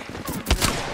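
A quick burst of loud, close gunshots in a shooter video game, with a few sharp cracks in under a second over a rough background hiss.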